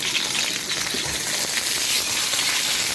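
Duck breast sizzling and crackling steadily in a hot pan, a constant close frying hiss with no talking.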